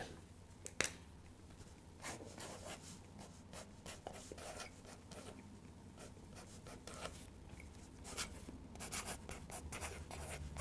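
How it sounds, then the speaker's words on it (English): A red pen scratching and scribbling on paper close by, in quiet steady strokes with small taps and pauses, with no talking. "let's write this down in nice red pen."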